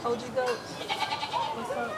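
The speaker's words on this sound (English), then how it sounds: "Goats are a lot of fun. They're really great animals to have on a farm as well." Goats bleat several times, wavering and fairly close, in livestock pens at a county show, heard beneath someone talking steadily.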